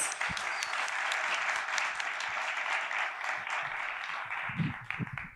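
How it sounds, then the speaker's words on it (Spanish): Warm applause from an audience at a literary talk in San Miguel de Allende, steady clapping filling the room and tapering near the end as a voice begins underneath. "Un aplauso, por favor"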